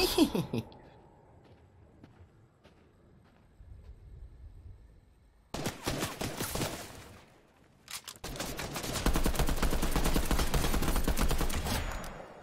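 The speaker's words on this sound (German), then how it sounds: "2 Schuss, danke fürs Nachladen, Thanos" Bursts of rapid Fortnite Battle Royale gunfire, loud and dense, with a quieter stretch of game sounds before them and a couple of sustained volleys.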